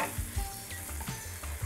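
Poppy seed paste with turmeric, chilli powder and a broken green chilli cooks in a pan, a soft sizzle under repeated scraping strokes of a spatula as the mixture is stirred in a quick, uneven rhythm.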